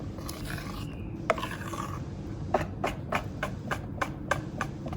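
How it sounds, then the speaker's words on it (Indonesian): Pukis cake batter is stirred until smooth in a bowl, giving soft rasping scrapes followed by a run of regular, distinct strokes, fairly close and with no one speaking. "Nah ini kita aduk sampai halus ya, sampai halus tuh udah nggak ada berindil-berindil lagi ya"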